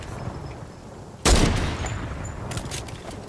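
Gunfire in a video game rings out as one loud, close burst of shots, then trailing echo and a few quieter shots.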